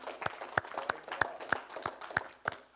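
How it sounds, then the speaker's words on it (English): A church congregation claps hands in praise, sharp separate claps in a loose, fairly even rhythm, about eight over a few seconds, moderately close and fairly quiet. "Let's give Jesus a hand clap."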